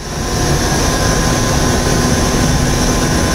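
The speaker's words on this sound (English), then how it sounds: "So the first thing we're going to do is turn the mechanical pump on, which is called a roughing." A mechanical roughing pump runs on an electron beam evaporator, giving a loud, constant droning mechanical hum and whine that stays steady with no speech.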